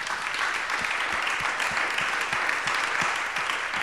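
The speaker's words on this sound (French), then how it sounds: "On peut applaudir nos intervenants." Audience applause for the speakers at a French talk on future cities, a steady wash of many hands clapping at moderate level throughout, with no voices over it.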